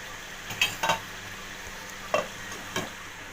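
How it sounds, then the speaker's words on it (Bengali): A spoon stirs chopped green chilies into a simmering fish curry in a pan, with a few distinct scraping clinks against the pan over a soft, steady bubbling background and no speech. "এবার আমি কেটে রাখা কাঁচা লঙ্কাগুলো এর মধ্যে মিশিয়ে দেব, দিয়ে একটা ঢাকনা দিয়ে দেব।"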